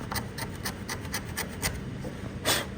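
Rusted primer is scraped off a bare metal test panel in short repeated rasping strokes, close and moderately loud, with one harsher scrape near the end.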